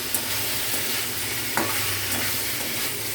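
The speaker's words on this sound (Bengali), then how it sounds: "এবার এটা ঢেলে এবার একটু কষিয়ে গরম জল ঢেলে দিতে।" Onion, chilli and vegetable mixture sautéing in a pan, an even close sizzle with a couple of sharp stirring scrapes against the metal.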